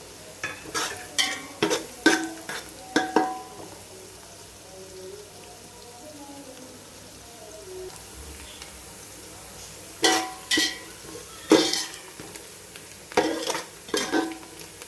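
Onions and green chillies sauté in a pan for home-style chicken biryani, with a spoon scraping and stirring in quick clustered bursts, separated by a quiet, steady sizzle; no one speaks.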